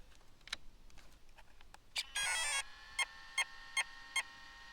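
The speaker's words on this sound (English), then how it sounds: "Four beeps for 4-cell." A Traxxas Slash 4x4 speed controller powers up on a 4-cell battery with a longer rising tone, then four short, evenly spaced beeps, after a few faint clicks.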